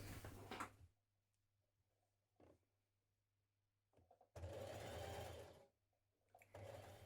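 Home sewing machine stitching the armhole of a shirtdress, several separate bursts of close whirring, a short one at the start, a brief blip, and a longer run later, with quiet pauses between them.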